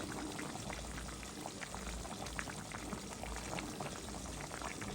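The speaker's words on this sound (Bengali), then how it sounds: "বলক এসে গেছে" A pot of tilapia fish curry with cauliflower, potato, beans and eggplant boiling, a continuous bubbling and gurgling rolling steadily and fairly close, with no talk.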